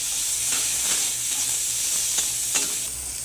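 Eggplant pieces fry in hot oil in a wok with a steady, loud sizzle and hiss. Faint stirring clinks sound now and then.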